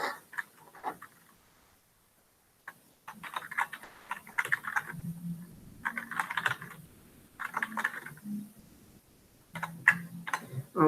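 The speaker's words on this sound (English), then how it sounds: "I'll just type it and explain afterwards what I'm doing." Someone types code on a computer keyboard during a programming seminar on data- and keyword-driven testing: close, quick clattering bursts of keystrokes with brief pauses between runs.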